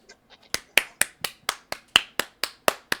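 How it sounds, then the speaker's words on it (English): Hands clap about ten times in a steady, evenly spaced rhythm, each clap sharp and close, following a few softer sounds at the start. "I shouldn't be clapping"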